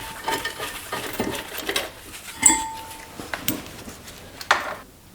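Sharp metallic clinks and taps of a 13/16 socket and wrench working the two caliper support bracket bolts loose on a 2005-2010 Jeep Grand Cherokee front brake, irregular close-up clatters with one brighter ring partway through.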